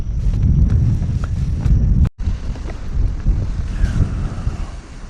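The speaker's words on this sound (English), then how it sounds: "Man, the wind is a lot." Strong wind buffets the microphone beside an inshore lagoon during kayak fishing, a loud continuous low roar with gusts, broken by a brief dropout midway, with no talking.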